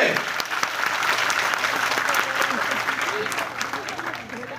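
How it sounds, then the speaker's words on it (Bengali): Loud, sustained applause from an audience at a Modicare workshop, dense clapping from many hands filling the room evenly for several seconds without a break. "জোরদার একটা হাততালি নিজেদের জন্য"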